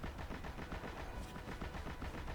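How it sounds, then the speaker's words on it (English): A machine gun firing in the game Destiny 2: Lightfall, a fast, sustained burst of evenly spaced heavy shots, loud and close, with no pause across the whole stretch. "finish them off with the machine gun again"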